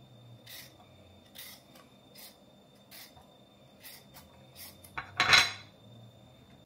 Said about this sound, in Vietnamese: Sau khi mình gọt củ cải đỏ xong rồi á, mình cắt dày nha cả nhà, cắt dày nè